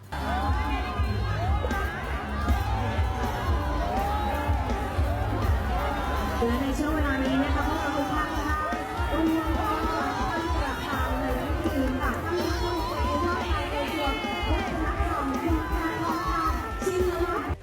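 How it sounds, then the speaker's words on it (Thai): Rival crowds of demonstrators shout and boo at each other at a rally in Korat, Thailand, a dense continuous roar of overlapping voices and jeers held at steady loudness throughout. "มวลชนทั้งสอง ฝ่ายก็ตะโกนโห่ใส่กัน"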